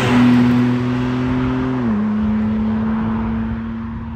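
A BMW M car pulls along under steady throttle, its engine a clear humming drone that dips in pitch at a gear change and then holds steady, up close and loud.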